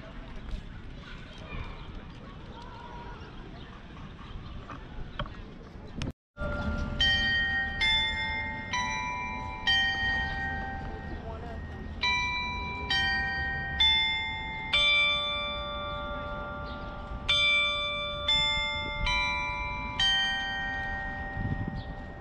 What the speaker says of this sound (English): With those beautiful chimes,